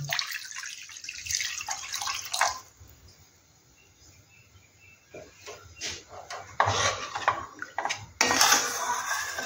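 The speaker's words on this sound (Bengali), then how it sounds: "আছে ওটা আমি একটু গরম জল দিয়ে দিলাম, যাতে চটপট ফুটে যায়।" Hot water poured into a pan holding pabda catfish, a hissing, splashing pour with clinks of metal cookware, close by and fairly quiet, no speech.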